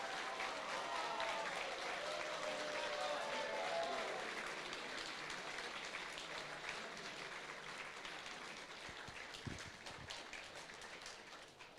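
A crowd at a robotics competition day applauds staff, a broad wash of clapping that stays fairly faint and distant, thinning slightly toward the end with a few louder individual claps near the close.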